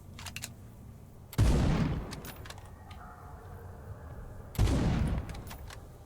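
Enemy gunfire in the video game Encased arrives as two heavy bursts of booming shots, each with a long rumbling decay, over quieter game ambience and sparse clicks.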